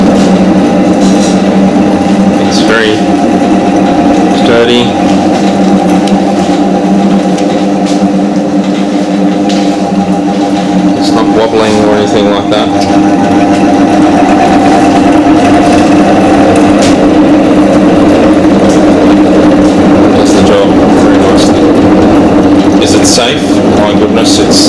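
A centrifugal extractor machine runs with a constant loud whirring hum, its pitch shifting slightly as the speed goes up partway through, while someone talks over the steady mechanical whine.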